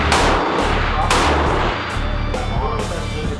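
Rifle shots at a 1,000-yard shooting range, several loud, sharp reports cracking out in quick succession with booming echo and constant outdoor rumble between them.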